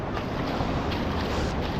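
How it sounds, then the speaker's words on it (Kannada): Flowing stream water near the Kothakuruki waterfalls, a close continuous rushing wash with splashes as someone wades across on foot, with no voices. "ವಾಟರ್ ಕ್ರಾಸ್ ಮಾಡ್ತಾ ಇದ್ದೀವಿ"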